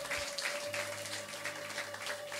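A church congregation claps together in a steady, sustained wash of applause that fills the hall, with a faint tone held underneath.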